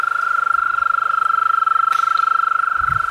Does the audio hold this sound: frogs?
yes